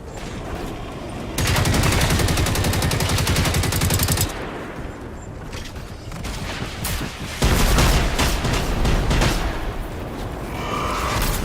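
Assault rifle fire in the video game Generation Zero, loud sustained automatic bursts broken by short pauses and distant shots.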